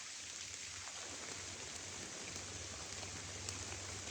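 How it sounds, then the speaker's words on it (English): Steady morning rain pours down in the woods of western North Carolina in a dense, even hiss with a faint low hum underneath, continuous and unbroken throughout. "It is absolutely coming down this morning, and I didn't bring a lick of rain gear."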